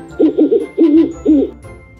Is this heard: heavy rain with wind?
no